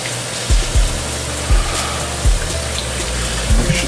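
Cut potatoes rinsed under running water, a continuous broad rush of flowing water close by, punctuated by several low thumps as the potatoes are handled.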